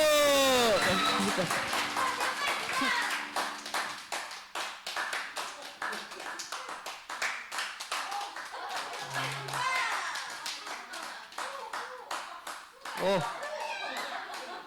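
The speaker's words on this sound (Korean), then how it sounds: "박수!" A group claps together in a lively burst, the applause fading into scattered taps, with voices and chuckles mixed in.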